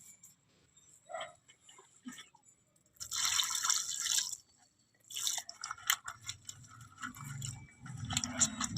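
Thorny brinjals are washed by hand in a bowl of water, with sporadic drips and splashes that build into bursts of sloshing and rinsing, close and fairly loud, with no talk over them.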